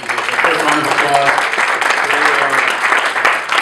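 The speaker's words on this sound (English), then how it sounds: "First round of applause." A room full of people at a membership meeting breaks into a dense, steady round of applause that stays loud and close throughout.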